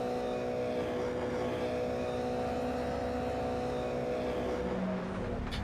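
Race car engines in the iRacing sim at Bathurst drone steadily and loudly with sustained tonal whine, a car holding revs through the final corner with no pauses, no talk over it.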